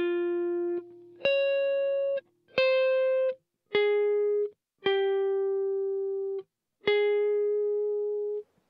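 Electric guitar on the neck pickup playing the lead part of a song: six clean, sustained single notes in a slow, even rhythm, each ringing out before the next, with no talking.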